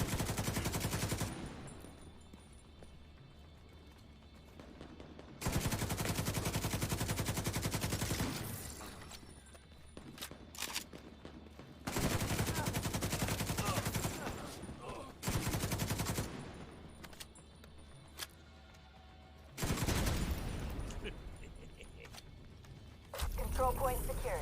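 Minigun fire in the video game The Division 2, long sustained bursts of rapid automatic gunfire repeated five times with short pauses between, loud and close, with voices talking in the gaps.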